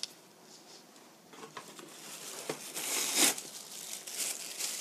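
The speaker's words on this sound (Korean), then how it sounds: "이건 비닐팩이에요. 플라스틱백에" Thin plastic bag, used to hold potato starch for sweet garlic chicken, crinkles and rustles in quick handling bursts, getting louder and busier toward the end, with no talk over it.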